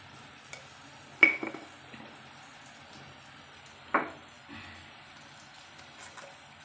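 Onions fry with salt in a pan until reddish-brown, giving a faint, steady low sizzle broken by two sharp spatula knocks against the pan.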